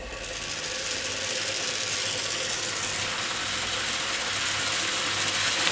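Ugears laser-cut plywood mini helicopter kit running slowly with its regulator turned down, giving a steady, continuous whirring rattle of wooden gears and ratchet clicks, close and even throughout with no talking.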